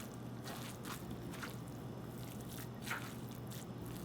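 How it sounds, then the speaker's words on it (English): Kimchi dumpling filling being mixed by hand, wet squishing and soft dripping sounds repeating in an uneven rhythm over a low steady background hum, close up and fairly quiet. "So hand is better when you mix this"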